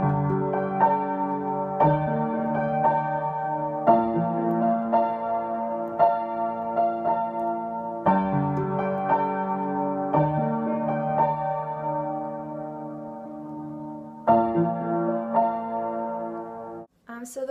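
A solo piano plays a song with both hands, sustained chords and a steady melody recurring in phrases every few seconds, close and clear, with no voices.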